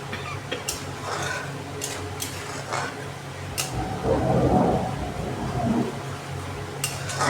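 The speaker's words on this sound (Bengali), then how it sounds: "এইভাবে খুন্তির সাহায্যে ভালো করে এটাকে সেঁকিয়ে নিতে হবে।" A spatula stirs Bengali-style okra curry with yogurt frying in a pan, giving scraping metal clinks and a soft, continuous sizzle heard alone at moderate loudness.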